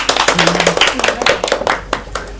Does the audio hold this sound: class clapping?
yes